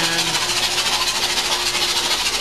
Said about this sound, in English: our engine's been on the sim tester for about 45 minutes